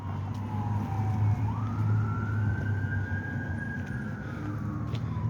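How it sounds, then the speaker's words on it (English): A state police car siren with a high whine rising and holding its pitch, heard from a distance over steady road and engine rumble. "their sirens sound different from the other sirens. They got more of a higher whine to them"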